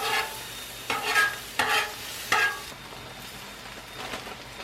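Sausage, tomatoes and peppers cook on a Blackstone griddle: a low sizzle runs beneath four or five loud scraping spatula strokes, then quieter stirring, with no voices.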